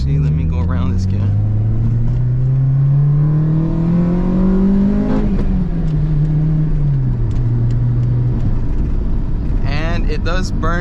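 A car running on E85 accelerates hard to overtake, its engine note climbing steadily for several seconds, then easing off and settling back, loud and close from inside the cabin.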